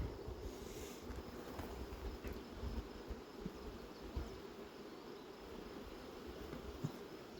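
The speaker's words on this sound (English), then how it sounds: "She's got these bees maxed out." A steady low buzzing of many honey bees at a hive fills the background, soft and continuous, with faint wind rumble and no talking.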